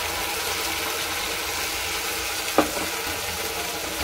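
Ground spice paste of tomato, chili, ginger and garlic sizzles in hot oil for crab curry, giving a constant hissing fry. There is one brief clatter partway through.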